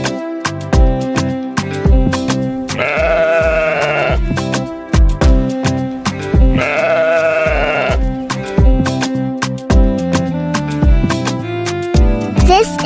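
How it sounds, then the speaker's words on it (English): Sheep bleating in a children's farm-animal lesson, two drawn-out bleats with musical backing throughout. "This is a sheep."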